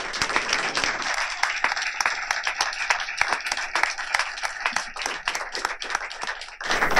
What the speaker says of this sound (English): So I think we'll just give them a big round of applause for it.